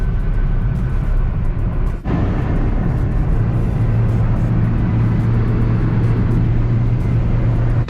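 A Ford Figo drives at around 150 km/h on the Yamuna Expressway while overheating, giving a loud, constant roar of engine, road and wind noise from inside the car, with no break and no talking.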